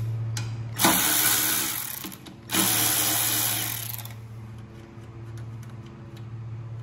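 A power drill or impact driver whirs in two short bursts, loosening bolts on an Ariens Deluxe 24 snow thrower during carburetor work, close and fairly loud, followed by quieter workshop ambience.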